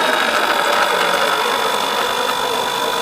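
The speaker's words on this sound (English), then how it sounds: "the pump is pretty noisy" An electric oil preluber pump on a Mercedes W212 E250 with the OM651 diesel engine runs with a steady, close, fairly loud whine and mechanical hum, unbroken for the whole stretch with no talk.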